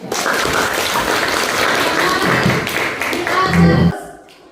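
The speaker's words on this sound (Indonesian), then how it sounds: "Oke, tepuk tangan buat Mas." Classroom audience applauding a university student after a presentation: a steady patter of many hands fairly near, holding for several seconds before tapering off, with faint voices mixed in.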